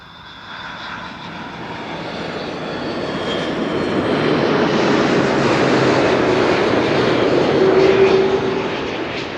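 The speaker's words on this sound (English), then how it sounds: "This is KLM flight 767 arriving from Edmonton, Canada, A330-300." A KLM Airbus A330-300 arriving at Amsterdam Schiphol Airport from Edmonton produces a loud, broad engine roar that swells over several seconds, peaks near the end, then begins to ease.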